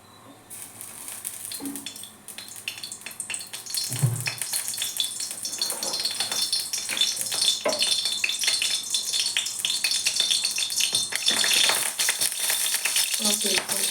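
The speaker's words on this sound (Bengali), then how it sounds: "একটু তেল দিয়ে দিলাম।" Oil heats in a pan in a home kitchen, giving a soft sizzle and crackle that builds over several seconds, with clatters and rattling around it and no speech.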